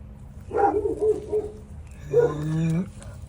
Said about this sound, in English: Dog barking for no reason.